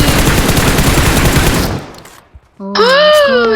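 Rapid automatic gunfire in a video game, a dense, loud, continuous burst that cuts off after a second and a half, followed by a short pause and then a voice speaking.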